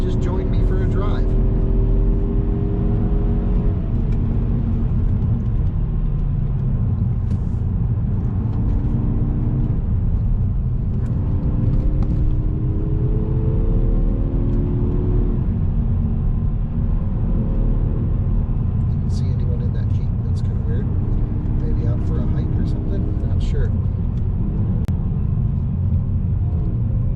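A 2021 Mazda 3 Turbo hatchback cruising along a canyon road, its engine a steady low drone that rises and falls through gear changes, heard from inside the cabin with a constant road rumble.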